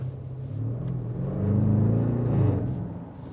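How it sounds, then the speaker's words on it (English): An Audi RS6 Avant Performance with a 605 hp V8 gives a loud, deep rumbling rev from a standstill at a traffic light. It swells to a peak near the middle and stays strong to the end, with no talk. "It's really like one blip of the throttle, and it's 0 to 50 kilometers."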